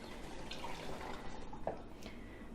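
Used, dirty Gamsol solvent poured through a funnel into a container after oil painting, heard as a faint, quiet trickle with a few soft drips against low room noise.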